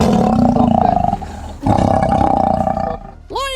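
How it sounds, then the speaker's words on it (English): A caged or fenced-in lion roars aggressively: two long, powerful bursts, the second following a brief break, then a short rising growl at the end, loud and close with no talking. "Frustrated, the lion directs its powerful roar towards a passing human."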